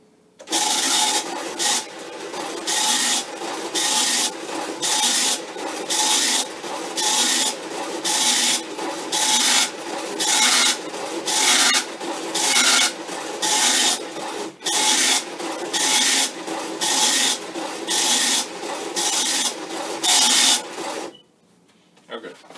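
A tractor-feed dot-matrix printer on a Commodore PET 8032 rasps out line after line in steady, evenly spaced bursts, loud and mechanical, before stopping near the end.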